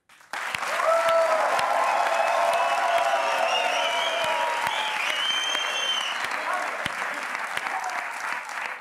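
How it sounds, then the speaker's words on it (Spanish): A studio audience at a late-night talent show bursts into loud, sustained applause for a contestant, dense clapping mixed with whoops and cheering voices that carries on strongly for about eight seconds. "un aplauso para Kino"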